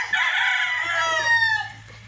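A white-eared gamefowl broodstag crows once, a loud, drawn-out call close by that holds steady and then trails off, with a faint low hum underneath.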